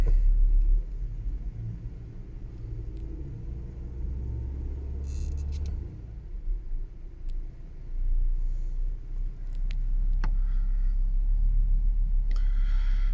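Audi 80/90 engine running at a lean idle, a low steady rumble close by with a few brief clicks and small surges in level, no talking.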